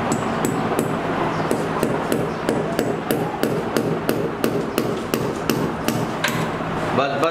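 Repeated hammer blows strike a plumbing fitting during a repair, a steady series of sharp, close metallic knocks at roughly half-second intervals, with a faint voice in the background.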